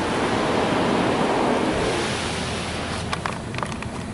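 High-pressure water from a Ryko Ultrasonic drive-through car wash at an Exxon gas station sprays over a car in a steady rushing hiss, heard close from inside, with a few sharp spatters near the end.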